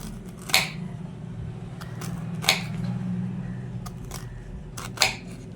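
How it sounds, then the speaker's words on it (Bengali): A knife cuts through star fruit (carambola) into star-shaped slices, giving three crisp chopping clicks a couple of seconds apart over a steady low background hum. "হ্যাঁ, এবার আমি দেখিয়ে দিচ্ছি কামরাঙ্গাগুলো কিভাবে কাটবে।"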